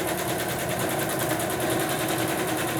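A sewing machine stitches through the pages of a handmade journal, a fast, even mechanical whir running close and continuous throughout with no talk.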